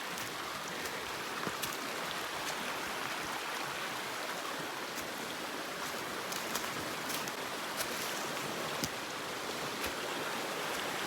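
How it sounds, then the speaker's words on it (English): Waterfalls and a flowing river in the Temagami wilderness, a steady, full rushing roar of water that holds constant throughout with no voices. "There's waterfalls everywhere."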